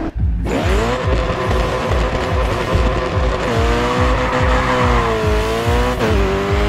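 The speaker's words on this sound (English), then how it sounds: "engine on this one's incredible." BMW M3 Coupe racing in Grid 2, its engine roaring loud and continuous with rising and falling revs through gear changes and a brief tire squeal, close and steady throughout.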